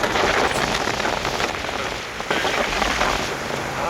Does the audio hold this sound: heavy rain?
yes